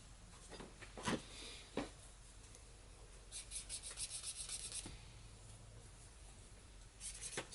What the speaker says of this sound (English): Burnishing, it's what I'm doing with the rubbing, compresses all the fibers together